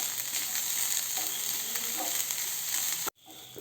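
Steady close sizzling and stirring of grated coconut with chilli powder and salt in a pan while making papadam thoran, then a sudden cut near the end.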